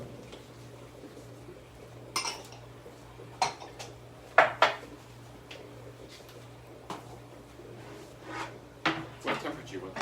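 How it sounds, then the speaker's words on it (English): Cutting boards being swapped at an outdoor cooking station, with several sharp wooden knocks, clacks and clattering utensils scattered over a low steady hum. "I'm gonna switch cutting boards."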